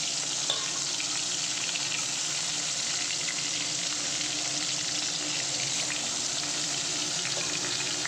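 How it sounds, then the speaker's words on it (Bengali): Boal fish frying in hot mustard oil, a dense, steady sizzle that holds level and close throughout, with no voices. "এখন দেখো মাছগুলো আমি তেলের মধ্যে ছেড়ে দিচ্ছি"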